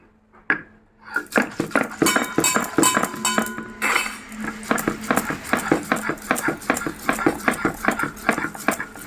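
Black mustard seeds, coriander and green chillies being ground together, a rapid series of sharp, close rattling and clattering hits that start after a brief pause and keep on steadily.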